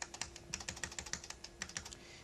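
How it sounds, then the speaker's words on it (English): Keys tapped on a computer keyboard in an office business software session, a quick irregular run of light clicks, close but quiet, with no voices. "we can use the arrow keys to adjust this"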